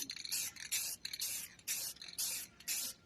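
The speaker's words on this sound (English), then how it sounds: "now we're back to the spray paint. We're going to just lightly mist" Spray paint mists lightly onto a painting in six short, close hissing bursts with brief pauses between them, evenly spaced and fairly quiet.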